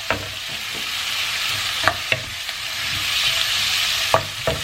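Chorizo sizzles loudly in a hot pan, a dense continuous frying hiss broken by a few sharp clanks and scrapes of stirring, close and with no one speaking.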